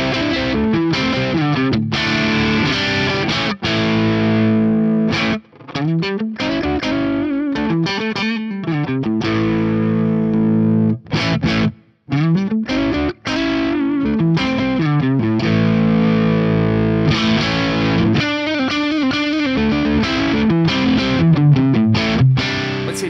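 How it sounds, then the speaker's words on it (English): An electric guitar on its tapped neck pickup plays through a Friedman IR-X, giving loud, sustained distorted chords and riffs with short pauses between phrases, and no talking over it. "So let's hear the neck tapped pickup on here."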